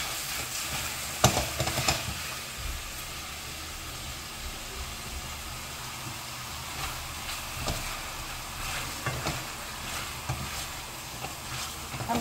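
Chili, onion and onion leeks sauté together in a pan for Korean soy-braised chicken, a continuous soft sizzle with occasional stirring scrapes and clicks, steady and close.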